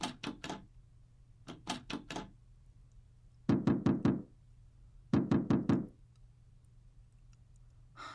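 A locked door in the video game Insanity Remake is tried and rattled, giving four bursts of three or four quick knocking rattles each, close and fairly loud over a low steady hum, with no talk.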